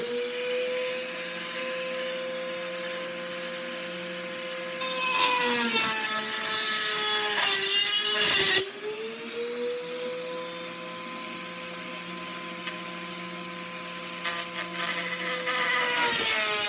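A power saw cuts through a wooden part for a Pilatus Porter PC-6 model aircraft, giving a steady close motor whine broken by a couple of rougher, louder rasping bursts as the blade bites, with no talking.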